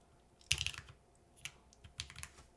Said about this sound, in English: I'm terrible at typing on this thing.